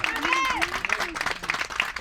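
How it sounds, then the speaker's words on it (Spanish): A church congregation in Cuautla claps in praise during a sermon, with steady scattered clapping under raised, excited voices calling out across the room. "Alguien dé una ofrenda de palmas a Cristo Jesús."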